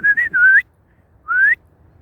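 A person whistles to call a dog: a warbling two-part whistle, then a pause, then a single longer rising whistle. Both are loud and close, with no talking.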